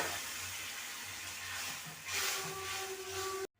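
Loud, steady sizzling hiss as a little water is poured into a hot pan of spice-coated small fish for a Bengali fish chorchori. It swells briefly, then cuts off abruptly.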